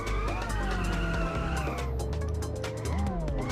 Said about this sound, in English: wheel spin, bit of burning rubber there